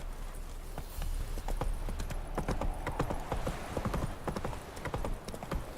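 Roach, a horse in The Witcher 3: Wild Hunt, gallops in a fast, steady run of clip-clop hoofbeats over rough ground. The hooves are close and loud, and a faint game soundscape sits underneath.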